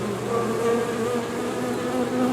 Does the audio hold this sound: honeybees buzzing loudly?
yes